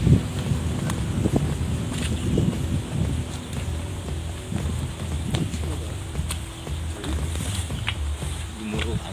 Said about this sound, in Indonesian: Gemuruh Angin.